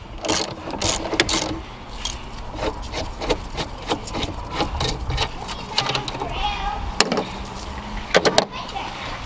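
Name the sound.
loosening valve cover bolt with E14 socket on BMW N54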